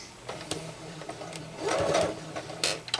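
A sewing machine stay stitches a half-inch seam on a tablet bag in short bursts of rapid whirring, close by, with clicks and handling noises between runs.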